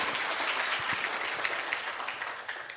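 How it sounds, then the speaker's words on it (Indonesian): Dense, steady audience applause at a business seminar, a large crowd clapping continuously throughout with scattered sharper individual claps near the front. "tepuk tangan dong"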